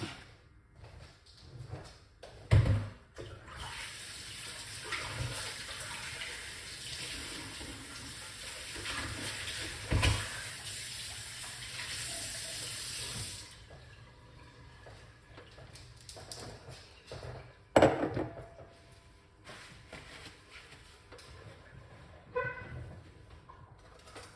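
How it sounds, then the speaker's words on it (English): Lime, ginger and other ingredients rinsed under a running kitchen tap, a steady broadband water rush lasting about thirteen seconds with a few knocks and clunks, then quieter handling sounds afterward. "I'm washing off the ingredients"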